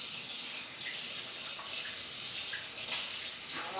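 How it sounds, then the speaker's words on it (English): Tap water runs steadily into a kitchen sink while hands are washed during home cooking, a close, continuous hiss and splash with no speech. "Let me wash my hands as usual."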